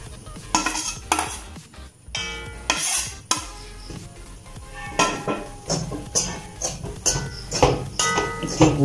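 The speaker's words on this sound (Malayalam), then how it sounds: "തീ കൂട്ടി വെച്ച് ഇളക്കുക." Mushroom and grated coconut dry-roasted over high flame in a pan for chutney powder, a spatula scraping and stirring in repeated loud bursts with faint sizzling underneath.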